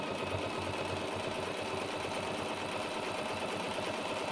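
A sewing machine topstitches steadily along a quilt edge toward a corner, a continuous, even mechanical whir with a rapid needle rhythm throughout, close and moderately quiet.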